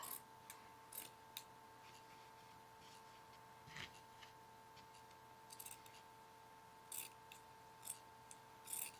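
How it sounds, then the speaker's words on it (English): Scissors snip through T-shirt fabric along marked lines in a series of quiet, crisp cuts spaced irregularly over a soft steady hum. "so then I get my scissors out"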